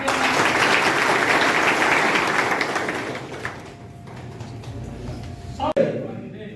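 Applause from an audience greeting the newly elected youth president of a local party unit at a Vajpayee birth anniversary gathering, a dense, steady clapping that fades after a few seconds into quieter crowd murmur.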